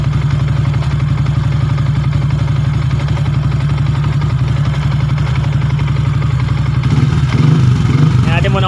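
A Yamaha Sniper 150 motorcycle engine, just back from a clutch damper repair, idles steadily with a loud, close, continuous rumble and faint clatter, while a voice talks over it and some handling noise comes near the end.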